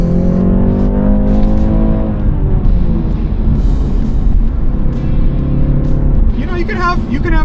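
A 2025 BMW 330i revs steadily under load with a smooth rising engine note, then briefly dips as it shifts gears, a constant close rumble running throughout the cabin.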